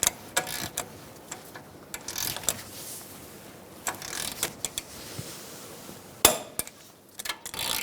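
A torque wrench tightens the brake caliper bolts on a Hyundai Accent: sharp metallic clicks and ratcheting ticks in short irregular bursts, close up in a quiet workshop, with one louder click near the end.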